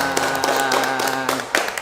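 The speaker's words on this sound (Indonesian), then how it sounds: "Tepuk tangan." Audience applause for a doctor at a health talk, a short burst of scattered clapping with a few sharp taps, brief and fairly close.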